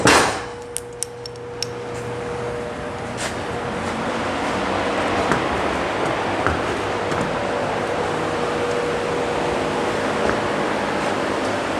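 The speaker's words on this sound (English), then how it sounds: "And I'll turn on this fan." An electric fan at a horse-drying station switches on with a few sharp clicks and clanks, then settles into a steady, loud whooshing hum with a faint tonal whine that runs on without talk.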